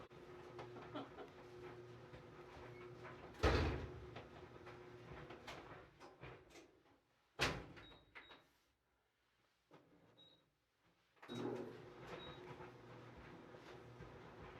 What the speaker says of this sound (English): Close the door and start the dryer